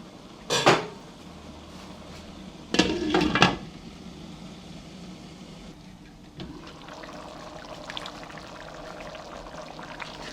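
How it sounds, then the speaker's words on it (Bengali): A lid being placed over a cooking pot of khatua, two sharp metallic clanks a couple of seconds apart, then a low steady simmering hiss with faint small clinks, close and without speech. "আমি আবার ঢেকে দিচ্ছি এটা।"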